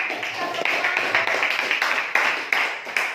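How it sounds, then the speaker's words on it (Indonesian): A classroom audience applauds after a lesson, steady crowded clapping filling the whole stretch with dense, overlapping hand claps at a moderate level. "Tepuk tangan."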